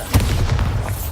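A Bombarda spell blast in Hogwarts Legacy bursts with a heavy, booming explosion that hits sharply and then rumbles briefly before fading.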